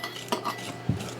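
A spoon scraping and clinking against a bowl while dry ingredients are stirred, two brief knocks standing out in a quiet, close kitchen setting.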